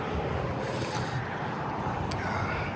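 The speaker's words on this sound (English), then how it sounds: "Wind's blowing." Wind blows across a hiking trail near an interstate crossing on the Appalachian Trail at Shenandoah National Park, a steady loud rushing roar buffeting the microphone without pause.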